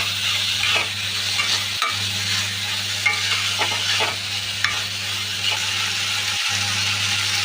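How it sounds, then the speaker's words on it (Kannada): Tomatoes sautéed and stirred in a pan for a simple breakfast dish, giving a steady sizzle with scraping stir strokes over a constant low hum, two brief dropouts, no talking. "ನೆಕ್ಸ್ಟು ಟೊಮೆಟೊ ಹಾಕ್ಕೊಳ್ಳಿ ಪುನಃ ಬಾಡಿಸಿ ಸ್ಟಾರ್ಟ್ ಮಾಡಿ ಹಾಗೆ ಒಂದು ಎರಡು ನಿಮಿಷ ಬಾಡಿಸಿ"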